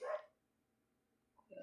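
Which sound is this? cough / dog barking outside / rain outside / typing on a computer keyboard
dog barking outside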